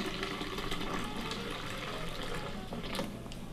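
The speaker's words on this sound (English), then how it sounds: "So I'm going to put in about 2 cups of almond milk." About two cups of almond milk poured into a blender jar for a chocolate smoothie, giving a steady, continuous liquid splashing and gurgling pour close by, with no talk.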